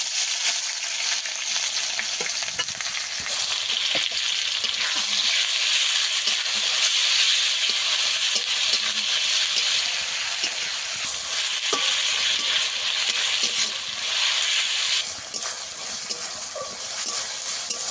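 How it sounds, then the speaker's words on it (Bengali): Ground onion paste frying with whole spices and dried chillies in a pan for a Bengali fish dish: a dense, continuous sizzle at steady loudness, with light stirring clicks throughout. "এদিকে বেটে রাখা পেঁয়াজটা দিয়ে দেবো।"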